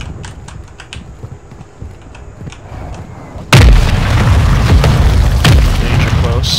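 Video game mortar strike: after soft keyboard clicks under radio chatter, a sudden loud boom opens a run of heavy explosions and rumbling impacts, with voices continuing over the blasts.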